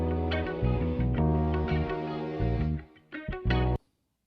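Pitch-shifted music sample played back on an MPC Live 2, a dense harmonic loop with steady chords and stabs that breaks up briefly near the end before stopping abruptly; no voices.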